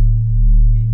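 A deep sustained bass tone from Ableton Operator, with a pitch envelope giving a punchy percussive start, hums loud and steady for about a second on its own.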